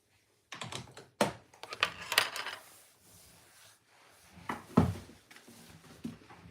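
Pinking shears snip through several stacked layers of fabric in a run of sharp, close crunching cuts with short pauses between, quiet room otherwise.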